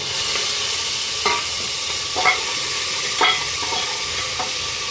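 Ginger-garlic paste and tomato fry in a pan for dal khichdi, a steady close sizzle with a spoon scraping and stirring at intervals, sharper clacks around each stir, no talk.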